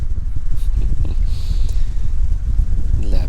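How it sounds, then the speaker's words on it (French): Wind gusts across an open spot while fishing outdoors, a loud low rumble of buffeting against the microphone with faint rustles and brief shifts in intensity. "le vent commence à souffler un peu plus"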